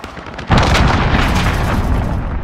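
A loud cruise missile explosion from a Modern Warfare HQ match, with a deep, broad boom bursting in after half a second of quieter noise and then a sustained roaring rumble that continues without fading.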